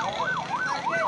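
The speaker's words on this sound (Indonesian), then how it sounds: "saat ini ambulan sudah tiba yang akan" An ambulance siren wails in repeated rising and falling sweeps, steady and fairly close, arriving to collect a victim's body in Cisewu, over a continuous background of road noise.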